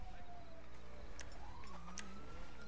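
A police siren in GTA 5 Online wails in rising and falling sweeps over a steady engine hum, with occasional sharp gunshot-like cracks, sounding like game audio.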